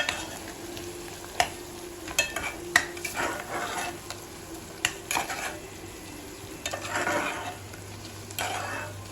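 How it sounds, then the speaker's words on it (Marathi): Ghati masala is stir-fried in a pan for a garlic mutton dish, with a steady sizzle and occasional sharp spatula scrapes and taps against the pan, close by with no talking. "दोन चमचे घाटी मसाला टाकणार आहे ठीक आहे आणि तो आता व्यवस्थित मी परतून घेणार आहे"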